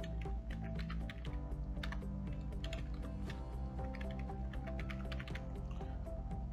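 Rapid keystrokes on a computer keyboard as a password is entered, a steady run of close clicks over continuous background music.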